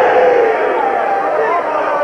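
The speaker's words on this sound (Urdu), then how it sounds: "اچا بول کے ہاتھ کھول کے مل کے بولو نعرہ حیدری" A crowd at a religious gathering loudly chants the Nara-e-Haidari slogan in unison, a dense, sustained roar of many voices filling the space without pause.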